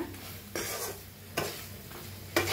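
Potato and okra curry being stirred as it fries in a pan, a soft continuous sizzle broken by three distinct scraping strokes of the spoon, with no talking.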